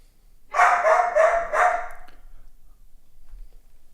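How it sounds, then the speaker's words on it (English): A dog barks three times in quick succession, loud and close, then falls quiet, heard alone during a home music-lesson stream. "I don't think he wanted to hear the barking the whole time."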